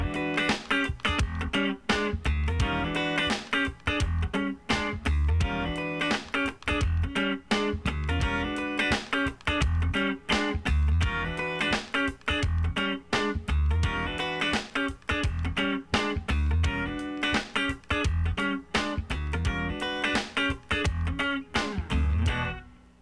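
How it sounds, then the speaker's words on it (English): A funk rhythm guitar part is played with a swing feel: tight, choppy strummed chords and muted scratches in a steady, bouncing groove that runs unbroken for over twenty seconds, with no talk. "Now let's do the exact same part with a swing feel."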